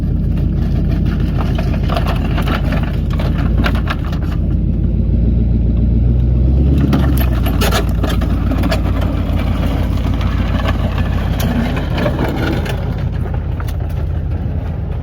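A Cadillac being converted into a stock car idles loudly and close, its deep, steady rumble running unbroken with slight rises and dips in engine speed.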